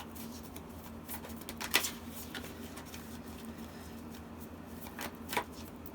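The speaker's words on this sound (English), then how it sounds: "I'm going to pull 3 cards." Tarot cards are shuffled and drawn, giving soft, close papery riffles with a few sharper snaps and slides against a faint steady hum, and nobody speaks.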